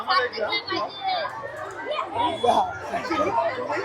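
Crowd chatter at a children's school food fair in Kelvane village, gathered around a juice stall; many overlapping young voices talk steadily at moderate loudness with no single speaker standing out.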